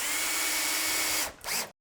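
A power drill drives a 30mm screw into log cabin timber, one close, loud continuous whine lasting just over a second, then a short dip and a final brief burst before stopping.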